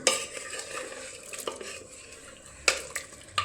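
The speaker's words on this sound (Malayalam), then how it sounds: "ഇളക്കി വെക്കട്ടെ" Carrot and potato stirred in a pan, continuous close scraping and clattering of a spoon against the pan with light sizzling, a few sharper knocks near the end.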